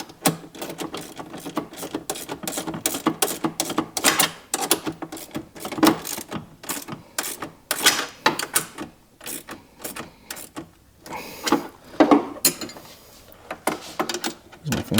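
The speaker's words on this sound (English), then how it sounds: "take our wrenches and tighten the mount that's on the front side of the power plate" A wrench tightens the front mount on the power plate of an Evolution D5 Plus Signature plug-and-play sound system, giving dense, rapid ratcheting clicks and mechanical rattles in bursts that continue close-up throughout.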